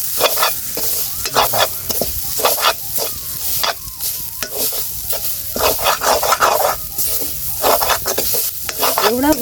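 Grated coconut is dry-roasted in a pan for milk laddu, with repeated scraping and stirring strokes against the metal and a light crackle between them, close and fairly loud.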